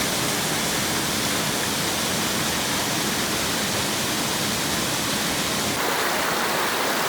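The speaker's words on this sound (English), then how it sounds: "This is the stream that comes down from near Kia Ora Hut" Mountain stream flowing down from near Kia Ora Hut, a steady close rush of water with an even, unbroken roar and no voices.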